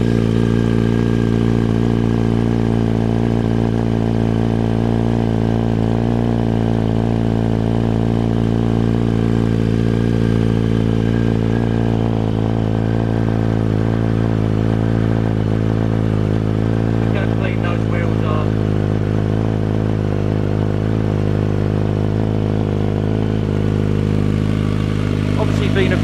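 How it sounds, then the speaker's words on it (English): A motorcycle fitted with a Remus exhaust idles steadily and loudly close by for the whole stretch, a deep throbbing drone with some light clatter, while someone talks over it. "very difficult to represent an exhaust sound on a video, but that's a lovely sounding Remus"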